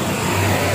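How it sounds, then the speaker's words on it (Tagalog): A noisy car passes outside a shop, a loud, dense engine roar with a low hum underneath, brief and steady, with no talking. "Maingay ang sasakyan."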